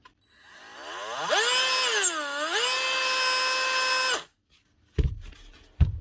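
A repaired DeWalt concrete vibrator with a Makita part fitted inside runs up to a loud, whining motor drone whose pitch wavers and dips before it cuts off, followed by a couple of sharp knocks.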